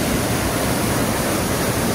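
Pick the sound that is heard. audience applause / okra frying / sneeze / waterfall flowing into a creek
waterfall flowing into a creek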